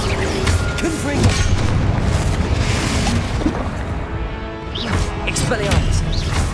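Confringo blasting spells in Hogwarts Legacy combat, loud crashing explosions and smashing impacts packed together in a chaotic, continuous battle mix with shouted vocal effects.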